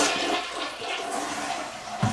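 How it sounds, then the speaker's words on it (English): A toilet flushing dirty water emptied from the tank of a Bissell TurboClean PowerBrush Pet carpet cleaner, with a steady rushing, swirling flow that fills the whole clip at close range and ends in a brief gurgle. "And we can flush it down."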